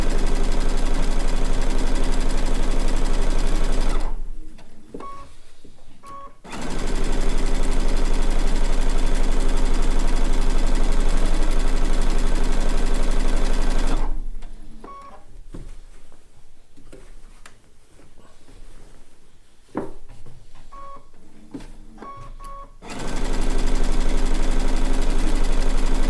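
A sewing machine, set in a cabinet or extension table, runs in long steady bursts stitching the seams of a blue and white quilt top, its loud continuous whir and ticking stopping briefly twice between passes.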